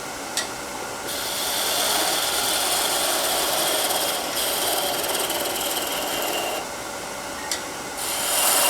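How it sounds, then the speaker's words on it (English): Hand sanding on a wooden ZooLights ornament gives a continuous, close, gritty rasp that changes pitch slightly a few times across the stretch, with no talking. "Sand a little bit."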